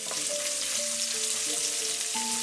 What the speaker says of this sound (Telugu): 1/2 స్పూన్ జీలకర్ర వేసుకుని ఫ్రై చేసుకోవాలండి. తర్వాత ఒక ఉల్లిపాయ స్లైస్ చేసుకుని వేసుకోవాలండి.